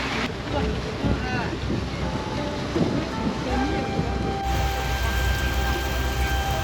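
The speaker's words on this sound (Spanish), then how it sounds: "como está lloviendo con viento, cae toda el agua adentro" Rain driven by wind patters steadily over a boat on the Mekong River in Laos, with gusty wind noise on the microphone and water sloshing nearby.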